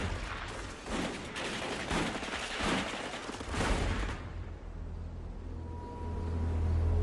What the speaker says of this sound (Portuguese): A polícia do estado foi alertada e abriu fogo.